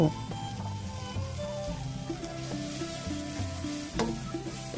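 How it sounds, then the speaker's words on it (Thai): Minced pork and chili curry paste stir-fry in a pan for a northern Thai chili dip, a soft steady sizzle with repeated scraping and clinking of the spatula, fairly close but low in level. "แล้วก็คั่วหรือพัดต่อไปจน หมูสับของเรา เริ่มจะสุกดีเนาะ"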